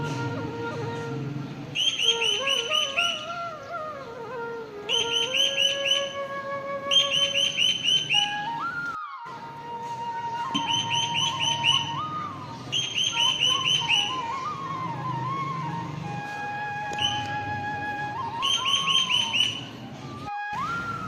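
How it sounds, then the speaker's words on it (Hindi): An Asian koel calling outdoors in Pakistan, repeated clear whistled phrases in rhythmic bursts, with other birds chirping and whistling around it at moderate distance. "तो बहुत ही प्यारी कोयल बोल रही थी,"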